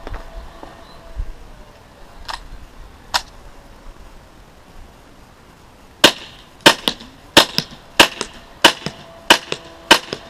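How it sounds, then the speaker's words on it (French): Airsoft B&T MP9 gas blowback gun fired without a silencer: two single semi-auto shots, then a rapid string of sharp, loud cracks in quick bursts, close by with no talking. "On va commencer à tirer en semi puis en rafale."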